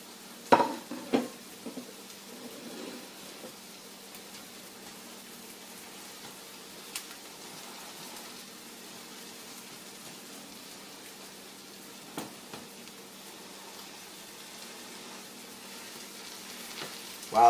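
Onion, corn and tomato sizzle quietly in a pan as a soft, steady hiss, with a few faint clinks near the start and end and no voices.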